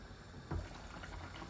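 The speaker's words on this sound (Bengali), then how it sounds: "এই দেখুন বলক আসতেছে" A pot of chicken and potato curry reaches a boil, giving a faint, soft bubbling with one slightly louder burble early on, and no talking.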